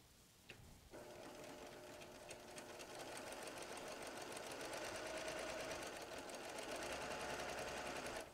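A sewing machine stitching a log cabin quilt block starts after a brief click and runs in a continuous fast mechanical whirr that holds steady and close for the rest of the stretch.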